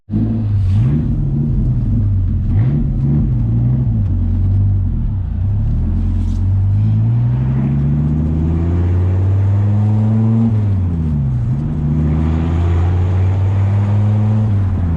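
A Dodge Viper RT/10 V10 engine rumbles low and steady, its pitch rising and falling with revs as the car pulls away, loud and close, no voices.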